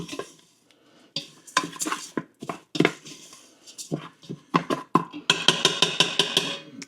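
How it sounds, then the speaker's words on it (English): Steel cut oats with butter and cinnamon stirred in a multicooker pot, a spoon scraping and knocking in irregular bursts, then a quick run of rhythmic clanks near the end, close and clear. "I'm going to go ahead and mix this so the cinnamon gets mixed in also"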